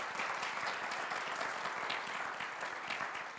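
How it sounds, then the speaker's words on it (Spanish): A church congregation applauds, steady dense clapping at an even level for the whole stretch, with no one speaking over it. "¿Cuántos pueden darle un fuerte aplauso a Dios?"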